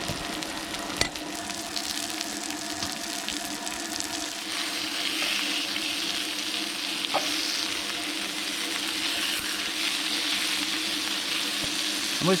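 Ptarmigan sausages sizzling steadily in a pan inside a heated ice-fishing tent on a frozen lake, a continuous close frying hiss with faint clinks, no talking.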